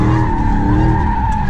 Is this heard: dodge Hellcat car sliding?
yes